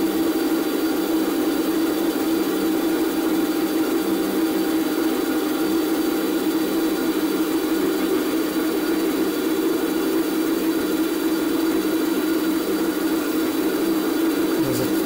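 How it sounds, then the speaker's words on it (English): A grinding wheel lightly touching a vice jaw during a regrind, producing a continuous steady whine and hiss over a constant machine hum, close and unchanging throughout. "I can hear the wheel just touching."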